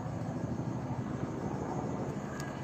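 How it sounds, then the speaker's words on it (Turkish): A helicopter flies over a forest fire near Milas in Muğla, its steady low rotor and engine drone continuous and moderately distant throughout, with no one speaking. "Bakın bir helikopter"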